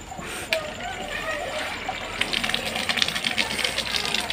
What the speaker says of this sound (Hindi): ऑन करो मोटर को